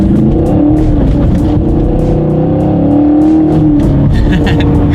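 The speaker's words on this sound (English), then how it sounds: "let's do a quick little acceleration here" A 2019 Chevrolet Camaro SS accelerates hard, its loud engine note rising steadily and close by, with exhaust crackles and pops near the end.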